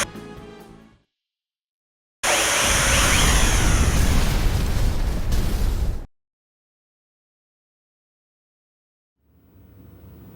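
A loud, roaring explosion aboard the Charles de Gaulle in the video game Star Ocean: Integrity and Faithlessness bursts in abruptly, rumbles steadily for about four seconds and cuts off, with game sounds before and after.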